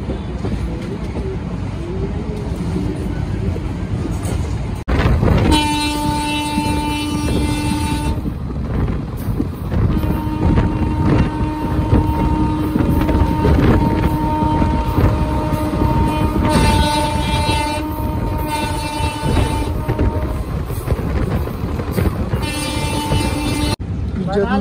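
Mathura Express passenger train pulling into platform one at an Indian station, wheels rumbling and clattering steadily throughout, with several long, loud horn blasts sounding close by over the running noise.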